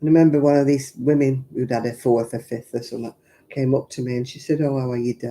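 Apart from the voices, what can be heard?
No everyday noise stands out behind the speech.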